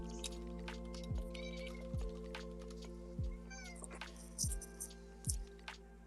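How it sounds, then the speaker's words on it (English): A cat meows several times in quick succession, short rising-falling calls spaced about a second apart over a low background hum. "I heard a kitty."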